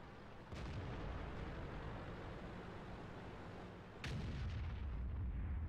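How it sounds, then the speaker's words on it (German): Tank cannon fire from an M48A1 Patton battle in World of Tanks sounds as two heavy booming shots a few seconds apart, over a steady engine and battlefield rumble. "Und hier fliegen schon wieder die Schüsse rein."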